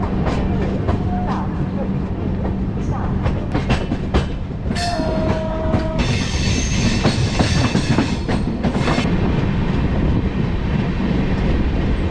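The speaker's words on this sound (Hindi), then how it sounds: "अभी तो ट्रेन जस्ट चलना स्टार्ट किया।" Express train on Indian rails, heard from inside a first-class coach, with a steady rumbling clickety-clack that runs the whole time, plus a brief tonal squeal partway through and passengers talking faintly underneath.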